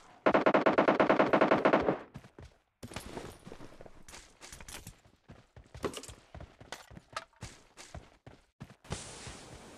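Rapid machine-gun fire in the battle game PUBG Lite opens with a loud automatic burst, then scattered shots and footsteps-like clatter follow at varying distance, with no speech.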